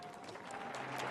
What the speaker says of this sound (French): Sous les vivales et bravo d'une foule en liesse gagnée par l'hystérie